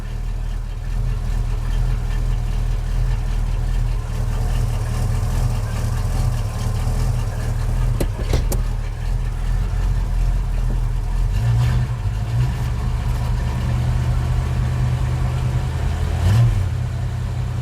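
A 1989 Chevrolet S10 pickup with a V8 swap idles with a deep, steady engine rumble. There are brief clunks around the middle and a couple of small rises in the idle near the end, and no talk.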